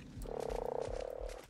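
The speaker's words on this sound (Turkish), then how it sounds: "Bu kurbağayı kaybetmeyelim." A frog in ARK: Survival Evolved gives a rapid, rattling croak that pulses steadily for over a second, close and moderately loud, with soft thumps beneath it.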